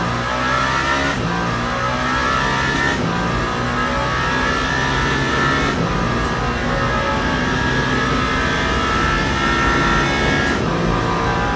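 Toyota race car engine in Le Mans Ultimate, a 24 Hours of Le Mans endurance race, droning loud and steady throughout with harmonic revving that shifts pitch at intervals, alone with no talk over it.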